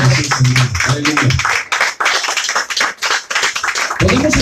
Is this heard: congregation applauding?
yes